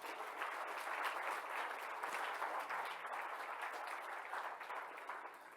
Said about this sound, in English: Please join me with a round of applause for this year's Excellence Award winners.